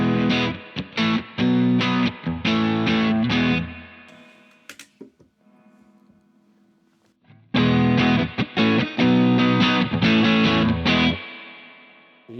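Surf-style electric guitar with a light reverb, played in two bursts of fast, choppy picked notes and chords separated by a few seconds of decaying ring-out, loud and close with no talk.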